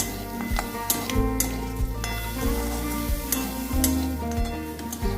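Mutton and potatoes sizzling in a pan while being stirred, a close, steady fry with scraping and clinking of the spoon.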